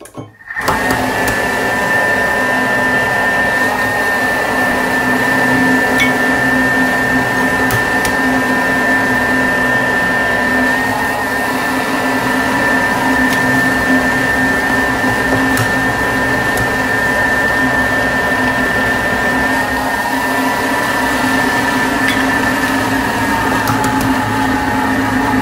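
A Thermomix running at speed 5 whirs steadily as it beats choux pastry dough while eggs go in one at a time, a loud, even motor hum with a high whine that starts abruptly and continues unchanged for over twenty seconds.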